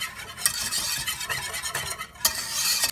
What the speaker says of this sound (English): make sure to use a whisk for this, and make sure to get everything incorporated so there are no lumps